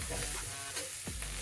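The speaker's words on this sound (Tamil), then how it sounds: "இதெல்லாம் சேர்த்துட்டு நல்லா ஒரு வதக்கிக்கோங்க." Onions and spices sautéing in a pan for hotel-style kothu parotta, with a steady soft sizzle and a few scraping strokes of a spatula, close and fairly quiet, with no talking.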